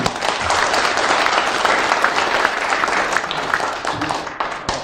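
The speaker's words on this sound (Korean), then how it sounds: "박수 감사합니다" An audience applauds, steady dense clapping from a room full of people that holds for a few seconds before starting to thin out.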